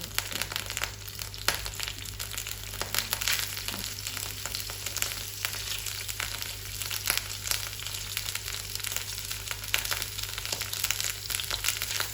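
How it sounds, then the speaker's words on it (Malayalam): Chopped ingredients fry in hot coconut oil with a loud, continuous crackling sizzle, broken by occasional scraping stir strokes over a low steady hum. "ഇപ്പം എണ്ണ ചൂടായിട്ടുണ്ട് കേട്ടോ, കൊത്തി ചേർക്കുന്നുണ്ട്"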